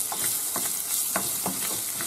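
Garlic sautéing in oil in a pan, a steady bright sizzle with soft scraping stirs at intervals, close up and without talking.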